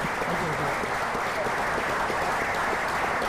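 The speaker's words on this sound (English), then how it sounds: "Can y'all clap it up for the fathers?" An audience at a symposium gives a steady, polite round of applause for the fathers present, a continuous dense patter of clapping with a few voices mixed in throughout.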